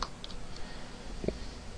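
Light clicks from a computer keyboard as an email address is typed, a few quiet, irregular taps spread over under two seconds with faint room noise.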